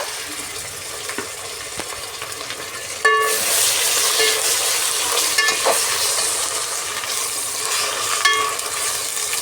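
Onions and ginger paste frying for biryani, a quiet crackle that jumps to a loud, continuous sizzle about three seconds in, with spoon stirring and metallic scrapes against the pan.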